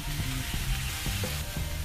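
Brussels sprouts, onions and baby corn sizzle steadily on a hot Blackstone griddle, a close, even frying hiss with soft stirring scrapes.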